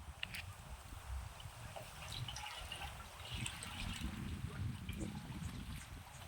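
Irrigation water runs steadily through a peanut field fed by a pipe, a soft continuous trickle and gurgle with low rumbling underneath throughout.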